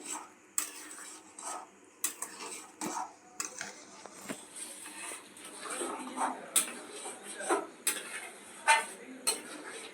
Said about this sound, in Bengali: চিনিটা দিলাম দিয়ে একটু আবার নেড়ে চেড়ে দিলাম